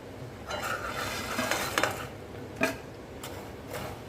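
Murukku are tossed into sugar syrup in a pan, with a soft sizzling bed under a few close scraping stirs and sharp utensil clinks against the metal.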